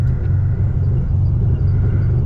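A run-down old car's engine rumbles steadily from inside the cabin while driving, a constant loud low drone with no breaks.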